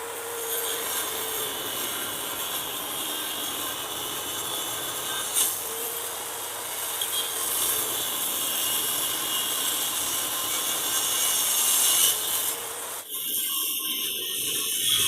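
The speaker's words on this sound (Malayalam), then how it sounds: "പിന്നെ നമുക്കിതിങ്ങനെ ചെറിയ ചെറിയ പീസുകളാക്കിയിട്ട് കട്ട് ചെയ്യാം." Wood being sawn into small pieces for a bee box, cut to 4-inch lengths: a steady, continuous rasping buzz that runs for about thirteen seconds, close and loud, then stops abruptly.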